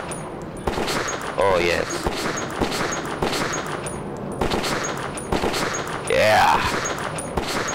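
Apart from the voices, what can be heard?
gunfire from video game Metro 2033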